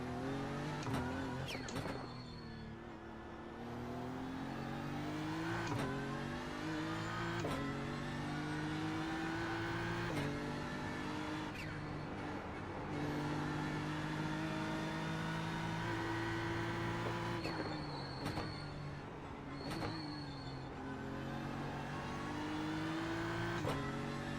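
A race car engine in a racing video game drives on cold tires, its pitch rising through each gear and dropping sharply at every shift, repeating in long pulls at a steady, continuous level.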